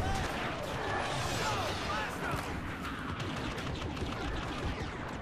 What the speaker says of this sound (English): I see the gunfire